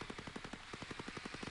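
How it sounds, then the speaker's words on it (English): Rapid bursts of automatic gunfire from the tactical shooter Ghost Recon Breakpoint, a fast, evenly spaced rattle of shots sounding somewhat distant and steady throughout. "I'm hearing more gunfire over here"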